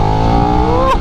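A 2023 KTM Super Duke hyper naked motorcycle in second gear sport mode revs loudly and continuously as the throttle is rolled, engine pitch climbing steadily before dropping off at the end.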